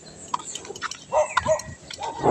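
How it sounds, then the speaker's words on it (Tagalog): A dog gives a few short, low growly barks and snorts at close range, mixed with faint outdoor rustling. "Ito, may aso pa."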